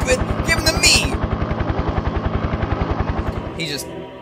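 Helicopter rotors in the video game Parasite Eve chop in a steady, fast, loud thumping rhythm, with voices speaking over the start and end.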